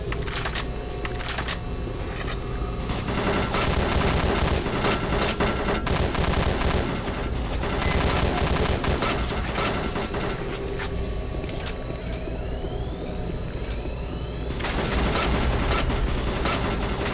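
Dense, sustained gunfire from Doom 3: Resurrection of Evil, rapid shots layered with machine-gun bursts and background game ambience running loud and continuous throughout, with no talking.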